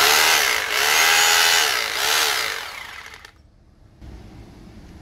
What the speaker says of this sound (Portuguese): esse barulho é o impacto do pistão dele